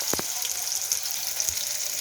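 Okra sizzles steadily in hot oil in a pan, a continuous close hiss with a few soft clicks and knocks, and no voices.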